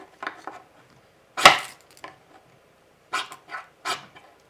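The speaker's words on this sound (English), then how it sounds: "Oh, I'm scraping paint." A Coghlan's flint striker scrapes paint off its surface in short, separate rasping strokes, one sharper and louder than the rest, with quiet pauses between them.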